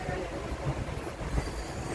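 A train rolls through a long Himalayan rail tunnel on the way to Katra, giving a steady, dense rumble with faint wheel noise that holds evenly the whole time.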